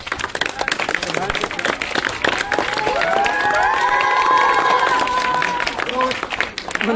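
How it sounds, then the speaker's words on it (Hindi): Crowd at a Republic Day celebration clapping to welcome guests, loud and energetic, with cheering, shouting voices including children, and bustle of people standing, peaking midway before easing. "आप लोग खड़े हो गए उनका तालियों से स्वागत करें"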